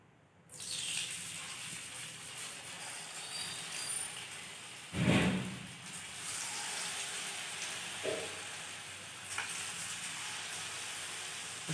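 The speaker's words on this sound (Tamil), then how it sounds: "இது ஒன்று ஒன்றா போட்டு பொரித்து எடுத்துக்கலாம்." Small tubers (siru kizhangu) dropped into hot oil for an evening snack, a steady loud sizzle and bubbling throughout with a sharp burst of crackle as a piece goes in, then continuing frying alone.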